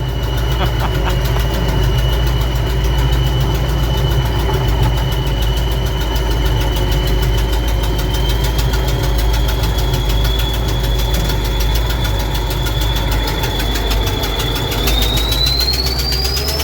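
A Kirovets K-700A tractor engine runs steadily at a constant low idle, with a deep continuous rumble and a faint high whine that rises near the end.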